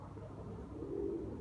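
Pigeons give a soft, low coo near a rooftop, faint against a murky background hum.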